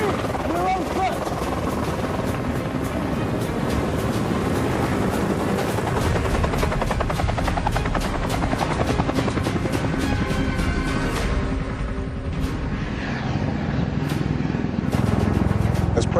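A continuous loud helicopter roar with rapid rotor chop runs the whole time, steady and close, with brief shifts in intensity toward the end.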